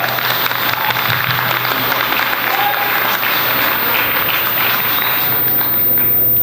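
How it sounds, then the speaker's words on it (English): Dense, sustained applause fills a campus performance hall after a choir's set, a steady wash of many hands clapping from start to finish. "One more round of applause."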